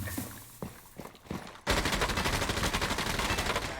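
Rainbow Six Siege gunfire during a competitive 3v1 site retake, opening with a few separate loud shots and then breaking into a dense, continuous burst of rapid automatic fire that runs to the end.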